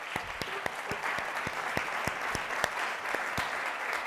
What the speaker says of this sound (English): I think you do deserve a big round of applause at this point.